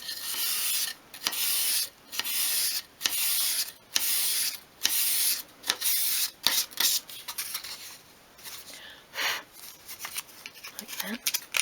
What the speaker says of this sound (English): Sand across your divide so you've got no sort of ridges at the top and bottom.